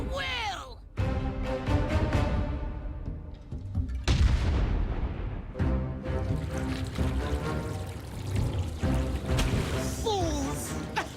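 Cannon-like booms and heavy gunfire in World of Warcraft's Nazmir storyline, Atal'Dazar battle setting, loud repeated blasts over battle noise and shouted game voices.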